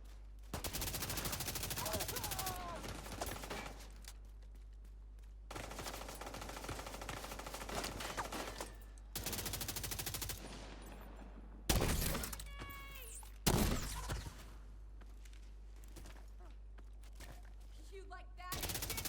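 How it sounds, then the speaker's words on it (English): Gunfire from a heavy-recoil weapon in The Division 2 battle royale mode, coming in loud sustained bursts separated by short gaps, with a couple of sharp single reports near the end. "This weapon has massive recoil."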